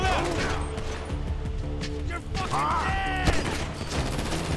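Gunfire in GTA 5 rattles in dense, loud bursts that run nearly the whole time, mixed with other game sounds and heard under a voice.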